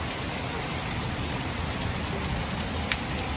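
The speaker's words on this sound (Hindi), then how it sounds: "बारिश हो रही है" Steady heavy rain drumming on a rooftop terrace during a thunderstorm with lightning, a dense continuous patter close by with no talking.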